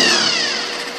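A freshly lubricated starter motor whirs loudly and steadily, wired directly to a battery jump, before cutting off with a brief click at the end.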